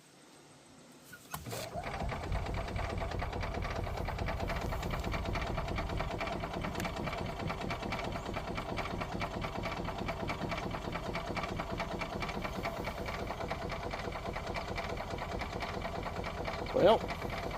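A revived golf cart engine starting up and then running steadily with a rapid putter after a choke adjustment, with someone talking over it.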